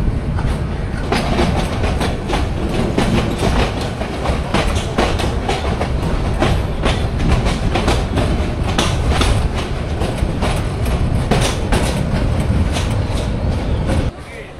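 Meghna Express intercity train rolling steadily on its rails at dawn near Chandpur, a continuous loud rumble with repeated clickety-clack wheel beats and carriage rattle throughout, ending with a slight drop in noise.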